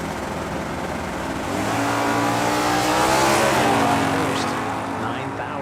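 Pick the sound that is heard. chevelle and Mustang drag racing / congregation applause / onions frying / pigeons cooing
chevelle and Mustang drag racing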